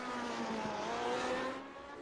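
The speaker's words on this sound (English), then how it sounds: "Love the sound of this Lotus 79 as Valiokis spears to the final sequence." A Lotus 79 racing car engine in a racing video game holds a steady, high-revving whine at the Motegi circuit, with a faint tire-squeal edge. It is loud and continuous, then eases slightly at the end.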